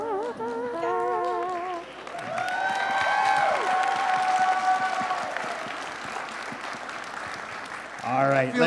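Applause fills a Rhode Island Comic Con 2025 panel for The Flash, rising into a sustained audience wave between spoken remarks at the start and end.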